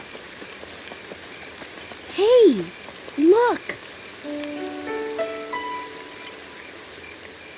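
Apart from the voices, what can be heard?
rain falling outside a tent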